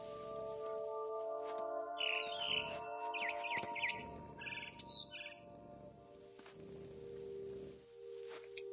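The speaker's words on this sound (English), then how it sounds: "It was a barn swallow going back to her nest." A barn swallow in What Remains of Edith Finch chirps in several quick, bright bursts over a sustained musical drone and soft rustling, fairly close and clear; no speech.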